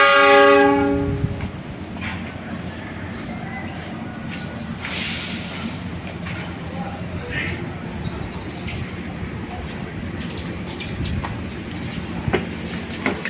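The Siliwangi passenger train on the Sukabumi–Cipatat line sounds a loud horn blast at the start, then gives way to a low rumbling idle and rail noise with a few short metallic clanks, while voices murmur faintly underneath.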